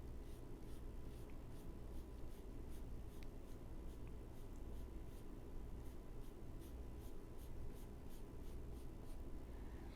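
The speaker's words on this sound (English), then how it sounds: "my pencil is doing the work." A pencil drawing an apple on paper: soft, continuous scratching strokes, faint and close, with no talking.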